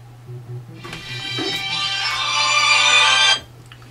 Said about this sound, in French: vous avez entendu très rapidement le téléphone.